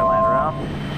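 A Kodiak 100 bush plane's engine on landing approach over the islands of Papua New Guinea, a steady drone with a tone that sinks in pitch and then fades lower, under a speaking voice.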